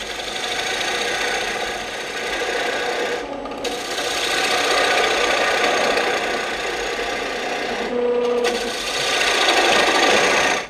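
A wood lathe spins a bowl while a spindle gouge cuts a concave foot, giving a steady loud whirring hum with rough scraping texture and two brief dips where the cut pauses.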